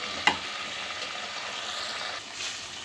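Drumsticks sautéing in a pan with mustard seeds and curry leaves, giving a soft, continuous sizzle with one sharp clink near the start, steady and fairly quiet.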